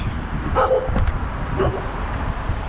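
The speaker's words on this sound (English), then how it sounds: "That's a big dog." A big dog barks a couple of times at a distance along an outdoor walking route in Lewiston, Maine, two short yelping barks over wind and street noise.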